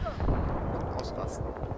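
Gunfire in the video game Battlefield 3, with a Magnum among the weapons in play: a dense, booming rumble of shots and blasts over about two seconds, loud and close, with a voice partly underneath.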